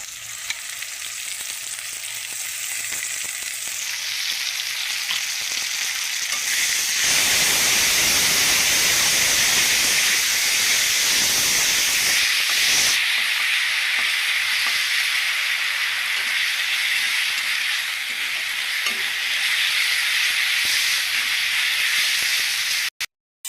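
Ginger, coriander and chilli paste hits hot frying oil after onions for a rohu fish-head moong dal, bursting into a loud, steady sizzle and hiss that swells mid-way and keeps crackling close up, with no talk over it.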